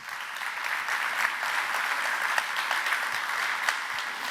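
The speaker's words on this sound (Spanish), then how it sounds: "un aplauso para Cristina" Sustained audience applause at an international care conference in Spain, a steady dense patter of many hands clapping at moderate level throughout, without talk.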